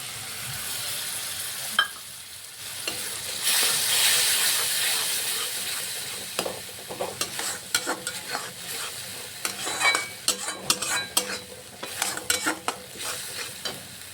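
Mustard-cashew masala paste with tomatoes sizzles in hot oil while being stirred, a steady close frying hiss broken by repeated scraping, clattering stirs that grow busier toward the end.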